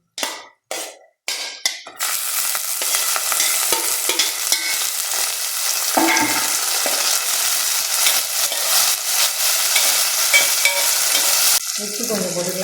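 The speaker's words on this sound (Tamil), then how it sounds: "இப்போ தக்காளியை போட்டுருவோம்." Tomatoes hit hot oil in a pan, a few sharp clanks first, then steady sizzling and frying with scraping stirs throughout, close and loud, with no talking.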